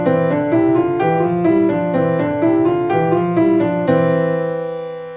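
Piano playing a simple beginner exercise with both hands moving in contrary and parallel motion, a steady stream of clear single notes stepping through a short pattern, then ending on a held chord that rings out and fades.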